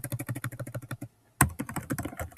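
Rapid typing on a computer keyboard, close and crisp, with a steady clatter of keystrokes, a brief pause, then a sharp louder key hit before the typing resumes.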